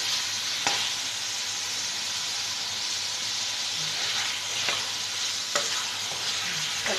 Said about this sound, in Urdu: یہ میں ڈال رہی ہوں اس کے اندر، اس کو ہلکا سا فرائی کر لیتی ہوں